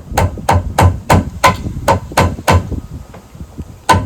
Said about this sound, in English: Helen, you want to nail it on the end one.